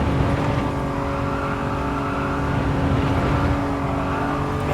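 A race car engine in Gran Turismo 7 holds a loud, sustained high-revving whine under full throttle, steady and close for the whole stretch.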